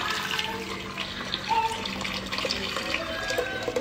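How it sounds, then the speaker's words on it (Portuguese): Water runs steadily from a tap into a pan, with splashing and gurgling as a small amount is added for a hot dog sauce in a home kitchen. The sound is close and continuous, with no speech. "Agora eu vou colocar a água."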